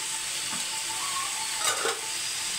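Chopped large onions and medium tomatoes sauté in a pan with a steady, close sizzle, broken near the end by a couple of brief stirring scrapes; no one speaks.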